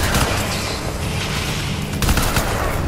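Dense, continuous gunfire fills a Crysis 3 firefight, with sustained bursts of automatic weapons and a louder cluster of shots near the end, loud and close, with no talking.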